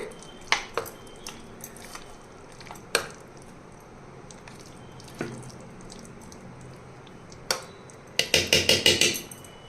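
Tomato pickle being mixed with turmeric in a pan, with sparse wet squishes and sharp clinks of a spoon against metal, ending in a quick run of rapid scraping taps.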